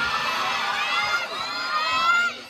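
A pageant audience at a Filipino beauty contest shouts out contestant numbers, a dense overlapping roar of many voices and cheers that fades at the end.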